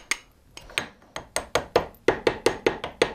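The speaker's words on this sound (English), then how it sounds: "I've got a little hammer. I'm going to tap that round." A small hammer taps a lead fishing weight about a dozen times, sharp bright strikes coming faster toward the end, close up with no talking.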